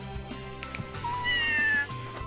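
A winged cat meows in the video game Scribblenauts Unlimited: one drawn-out rising meow, clear and close, over a soft looping game music bed with no talking.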